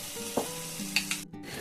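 Cashews and raisins get stirred into carrot halwa in a pan, giving a soft sizzle with a few scraping knocks from the spoon and a short sudden quiet near the end, with no talking.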